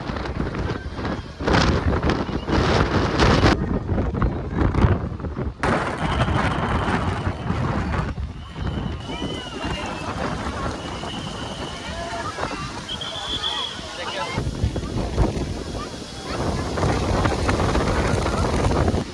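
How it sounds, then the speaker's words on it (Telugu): Strong wind buffets the microphone at India Gate in Delhi, heavy rumbling gusts that rise and fall, with a crowd's murmur and someone talking at times beneath it. "మొత్తం ఇది గాలి అయితే ఘోరంగా వచ్చింది."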